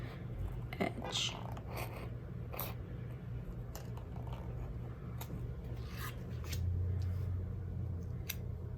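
Scissors snip along the edge of a paper planner sticker, with soft, close, intermittent cuts and rustling over a steady low background hum.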